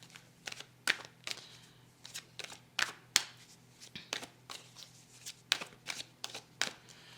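Tarot cards being laid down and handled during a reading, a run of crisp, close slaps and flicks at an irregular rhythm, alone with no talk.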